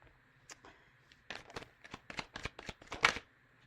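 Tarot cards are shuffled by hand nearby in a soft quiet room, a few light riffles first, then a run of sharp rapid flicks building toward a final burst.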